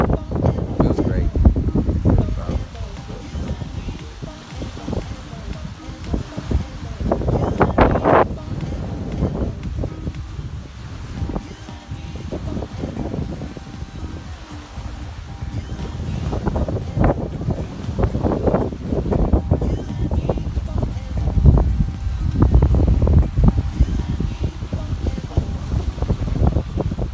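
Strong early-morning wind outdoors buffets the microphone in a steady roaring rumble with gusts swelling and easing throughout.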